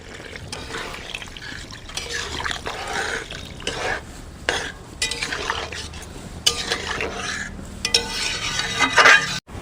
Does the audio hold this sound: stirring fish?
yes